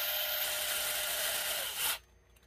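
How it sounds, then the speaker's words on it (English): A power driver tightens frame bolts on an RC car build with a steady, high-pitched whir lasting about two seconds before stopping abruptly, close and fairly quiet. "It's a great thing to have these power drivers."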